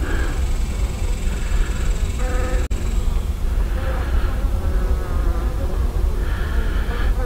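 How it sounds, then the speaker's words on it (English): Honeybees buzz steadily and loudly around an open brood chamber during a hive inspection, a close, continuous drone with wavering pitch and one sharp click partway through. "These are all newly hatched bees."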